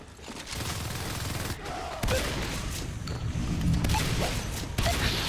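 Sustained rattling gunfire as marines come under attack in a team shooter game, loud and continuous bursts with heavy thumps throughout.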